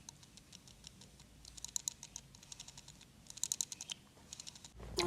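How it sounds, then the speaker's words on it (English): The aperture ring on a Laowa wide-angle lens is turned through its detents, giving a rapid run of small, crisp clicks that come in short clusters, close and quiet, with no talking. "if I go like this and then turn on the aperturing, it's clicking"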